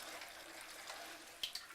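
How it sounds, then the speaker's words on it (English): A water tap runs into a glass for a Kangen water machine, a soft, steady hiss of flowing water with a couple of faint clinks near the end. "So I'm just going to turn the water on."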